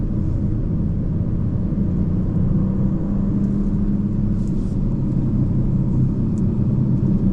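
Steady tyre roar and low road rumble from a Porsche Panamera 4 E-Hybrid rolling over a slightly wet track, a constant, even wash of noise heard from inside the car with no talking.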